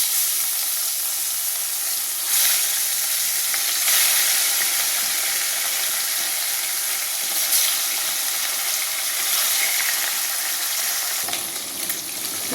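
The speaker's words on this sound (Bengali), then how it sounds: "তেল গরম হয়ে গেছে, মাছগুলোকে ভেজে নিচ্ছি।" Rohu fish pieces fry in hot oil in a wok, a steady, loud, dense sizzle and crackle running the whole time with small bursts of spattering and no voices.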